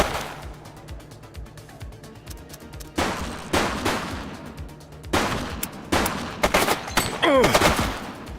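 Gunfire in the police video game The Precinct, bursts of sharp shots clustered in several loud volleys with gaps between, over steady game ambience and a brief whistling tone near the end.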